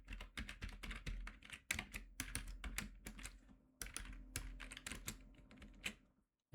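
Rapid, irregular keystrokes on a computer keyboard, close and clear, arrive in quick bursts separated by short pauses, with no talking.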